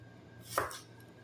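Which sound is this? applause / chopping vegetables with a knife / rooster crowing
chopping vegetables with a knife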